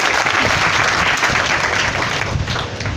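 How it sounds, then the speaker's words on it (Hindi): A crowd applauds loudly and steadily, dense clapping filling the whole stretch before easing slightly at the end. "थैंक यू सर, एक बार तालियां बजा दें"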